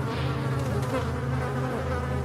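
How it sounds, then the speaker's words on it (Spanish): Steady, dense buzzing of a swarm of flies over foul, corpse-filled water in the video game Resident Evil 4, continuous and fairly loud with no speech. "Las moscas abundan por las aguas llenas de cadáveres y cosas así."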